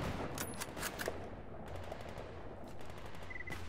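Rapid gunfire in the S.T.A.L.K.E.R. GAMMA shooter game, a string of sharp shots and short bursts over a steady background rumble, fairly quiet, with no talking.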